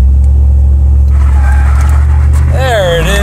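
A truck revs hard and accelerates from second gear with overdrive off, a loud, close, deep rumble building into a rising engine tone near the end.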